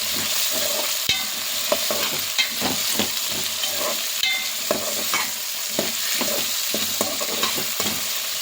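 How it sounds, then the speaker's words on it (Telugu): Mixed vegetables with beans and curry leaves sizzle in a pan while a spoon scrapes and stirs them in a steady rhythm of clinks, close and loud, with no talking. "ఒకసారి కూరగాయలన్నీ చక్కగా కలుపుకుందాం."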